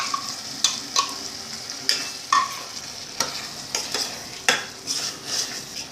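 A spoon stirs freshly ground paste into a green-chili kurma simmering in a pan, with soft repeated scraping strokes and a light sizzle running underneath at close range.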